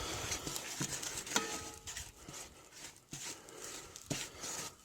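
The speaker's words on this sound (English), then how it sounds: "at first what you want to do is you just want to mix this all up" Bread dough ingredients with flour being mixed in a bowl, uneven scraping and stirring strokes close by, fairly quiet and without talk.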